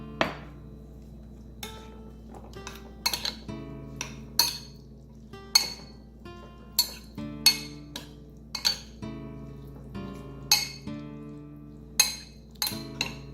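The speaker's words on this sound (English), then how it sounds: "Then we're going to mix all the ingredients gently with the spoon." A metal spoon gently mixing sauce ingredients with sesame oil in a bowl for a Korean braised cod stew: repeated light clinks and taps against the dish, irregularly spaced, close and fairly quiet.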